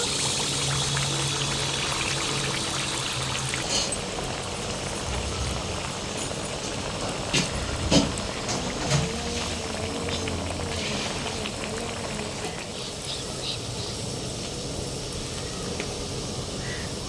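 Coconut burelu batter frying in hot oil, a dense, steady bubbling hiss that runs continuously at close range, with a few faint clinks along the way.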